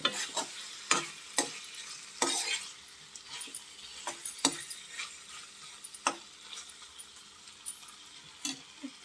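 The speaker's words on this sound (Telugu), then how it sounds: "బంగాళాదుంప ముక్కల్ని దీంట్లో బాగా రోస్ట్ చేయడం" Pre-boiled potato pieces roasting in a pan with a soft background sizzle, broken by repeated sharp scrapes and clinks of a spoon stirring them, close and irregular.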